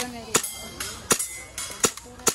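An airsoft gun fires four sharp, separate pops at uneven intervals, close and loud, with faint voices in the background.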